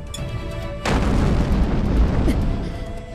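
Airship cannon fire in the video game Neptunia x Senran Kagura, a sudden loud deep boom that rumbles and rolls on for a couple of seconds after a quieter lead-in.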